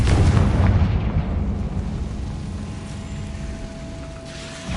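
A Confringo fire spell bursts in Hogwarts Legacy as a loud, booming explosion that rumbles heavily at first and then trails off into a lingering low roar.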